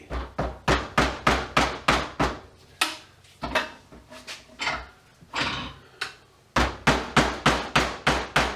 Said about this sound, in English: See, I told everyone these ball peen hammers would come in handy.